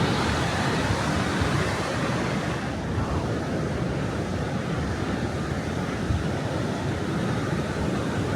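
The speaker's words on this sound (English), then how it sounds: "look at the waves up to this on the steel pier." Atlantic Ocean surf roars continuously against a steel pier in Atlantic City the day after a hurricane, a broad steady wash of crashing water with wind noise on the microphone and no clear breaks.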